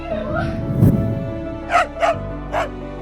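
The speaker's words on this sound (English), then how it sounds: "This dog hasn't seen its owner for 8 months and didn't even recognize him at first." Dog reunited with its owner after eight months, giving a few excited barks and yips near the end over a loud hum and muffled background noise.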